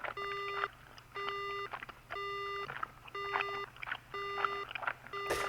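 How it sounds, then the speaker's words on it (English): A phone in the video game Death Mark beeps after the caller hangs up, a clean electronic tone repeating in six evenly spaced pulses with short gaps between them. "the phone is beeping as if I just got hung up on"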